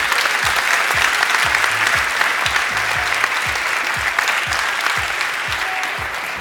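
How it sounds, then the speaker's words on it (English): Loud, sustained audience applause for graduates at a graduation ceremony, dense clapping from a large hall alongside a steady low rhythmic thump, continuing at an even level before easing slightly at the end. "A round of applause, please, for all the graduates of the Embedded Systems track."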